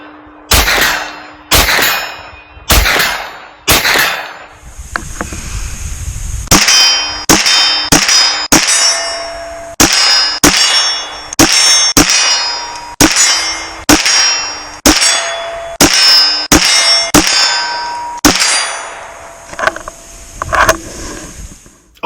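A Ruger PC9 9mm carbine fired without a brace sends rounds ringing off steel targets, a long string of sharp shots each followed by a bright metallic clang, at a steady, slightly uneven pace with a short pause early on.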